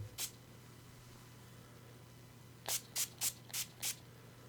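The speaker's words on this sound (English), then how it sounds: "I have a little Flawless makeup setting spray semi-gloss finish, so I'm going to wet this a little bit" Flawless makeup setting spray with semi-gloss finish misted onto a blender sponge: one short spritz, a pause, then five quick, even sprays in a row, close and crisp over a faint steady hum.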